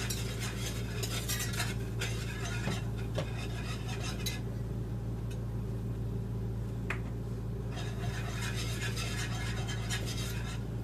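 Flour being stirred into butter and oil for a roux in a pot, a soft continuous scraping and swishing with faint sizzling, moderately close and steady throughout.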